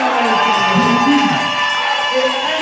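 Members of a church congregation raise sustained shouts and cries of joy, a loud, continuous crowd roar with voices rising and falling together throughout.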